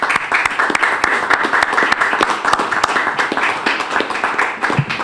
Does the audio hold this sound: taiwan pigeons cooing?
no